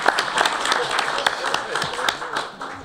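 Scattered clapping from a small audience at a county board meeting, a loose run of quick claps that fades out after a couple of seconds.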